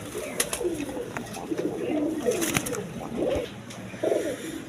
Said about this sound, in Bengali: এক পেয়ার নিউ এডাল পেয়ার গড়া কবুতর আছে